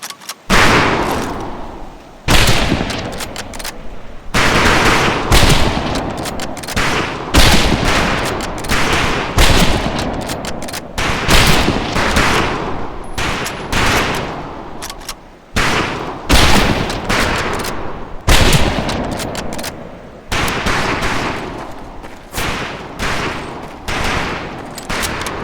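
Loud volleys of rifle fire ring out at a shooting range in the WWII video game Medal of Honor: Pacific Assault, with repeated bursts of shots separated by short pauses over about twenty-five seconds.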